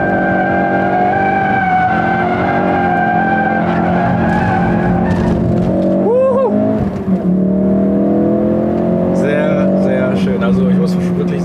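A 350 PS 2016 Ford Focus RS drifts with loud, sustained tire squeal over a roaring engine that rises and falls as it slides, while someone talks over it.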